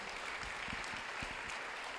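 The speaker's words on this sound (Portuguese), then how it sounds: "Você pode aplaudir o Senhor Jesus?" A church congregation clapping during an evening service, a brief, fairly faint patter of scattered hand claps with no talk over it.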